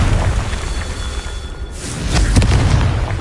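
Confringo explosive spell in Hogwarts Legacy, a booming blast with crackling bursts, loud and close, over a rumbling low game background.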